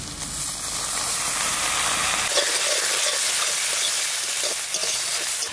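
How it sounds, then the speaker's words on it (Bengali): Red crab brains from the Sundarbans frying with onion and chilli, a steady close sizzle and crackle that runs throughout, heavier and fuller at the start before thinning to a lighter hiss with small pops and stirring. "ঘিলুটা ভাজা খাবে তাই পেঁয়াজ দিয়ে লঙ্কা দিয়ে ভাজা করে রেখে দেবো"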